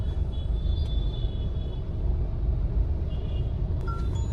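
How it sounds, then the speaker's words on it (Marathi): Steady low rumble of road traffic at Saki Naka junction in Mumbai, engines idling and passing, a brief air-brake hiss and faint tones, no talking. "साकीनाक्याचं साकीनाका जंक्शन आहे फुल ट्रॅफिक असतं"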